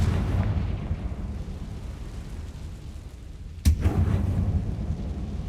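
A Confringo blasting spell explodes in Hogwarts Legacy: one sharp, loud burst partway through, rising over a steady low game rumble and then trailing off.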